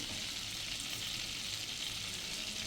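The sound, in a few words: mustard seeds frying in hot butter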